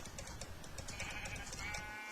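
Sheep bleat in a video game, a quick run of bleats in the foreground over a busy background, with no talk.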